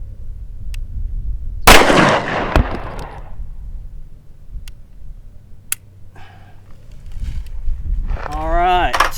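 One loud, close shot from a Springfield XD-9 pistol during trigger training, its crack followed by a decaying echo, then quieter clicks and brief talk nearby.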